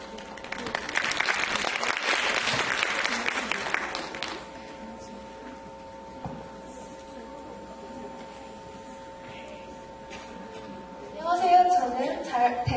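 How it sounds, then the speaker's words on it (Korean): A university presentation audience applauds for about four seconds, a dense, moderately loud clapping that then fades into a quiet room hum. A voice starts speaking near the end. "박수"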